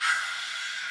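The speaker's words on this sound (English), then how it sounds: "Maybe you want to do a lion's breath here." A forceful lion's breath exhale during a throat chakra warm-up, one sustained breathy rush of air that swells at the start and holds steady for about a second, with no talking.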